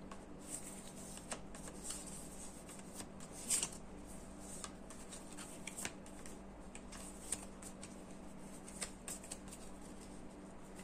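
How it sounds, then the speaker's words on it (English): A deck of game cards from a solo wargame about Kharkov is shuffled with a soft, steady riffling patter, quiet and close, with no voices. "this card goes back and gets shuffled again."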